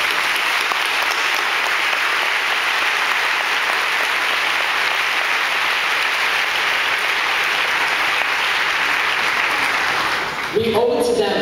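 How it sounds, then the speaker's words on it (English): Sustained audience applause at a 2008 convocation ceremony, loud and steady for about ten seconds, then stopping abruptly with a brief murmur at the end. "I want to take this time to just give them a round of applause"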